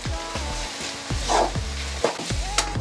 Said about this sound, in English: Okay, I'm gonna mix that.